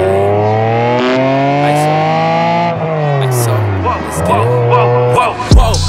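Ferrari 550 Maranello with a V12 engine and manual gearbox, a loud close revving drone rising and falling through several throttle swells, ending in a sharp burst.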